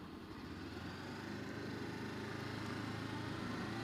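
A Honda CB500X motorcycle being ridden gives a steady, even engine drone with a low rumbling buzz, held at a constant level throughout with no talking.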